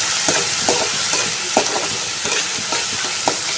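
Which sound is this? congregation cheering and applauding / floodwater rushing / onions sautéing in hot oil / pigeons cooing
onions sautéing in hot oil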